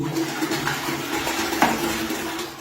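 Remaining water draining from a toilet cistern after the supply tap is shut off, a steady nearby gurgling rush with a brief splash partway through, no talking.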